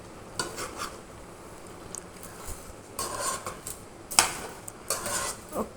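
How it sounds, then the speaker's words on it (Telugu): Chopped tomatoes are stirred with salt and turmeric in a pot for tomato pickle, quiet scraping and clinking of a spoon against metal in irregular bursts over a faint sizzle, with no talk. "వేసేసి బాగా మిక్స్ చేయాలన్నమాట"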